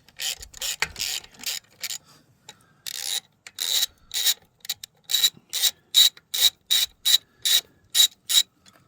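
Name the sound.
hand ratchet turning bolts on Arctic Cat starter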